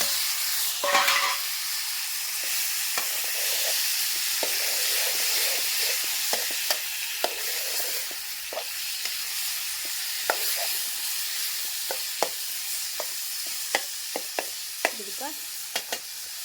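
Chillies and tomato fry in a pan with a continuous close sizzle, punctuated by light clicks and scrapes of stirring.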